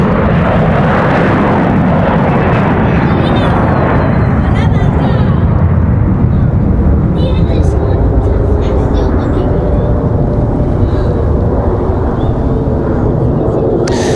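A Boeing 737 departing Raleigh Durham International Airport roars loudly and continuously, a heavy broadband engine rumble that stays strong throughout, with a voice speaking faintly beneath it.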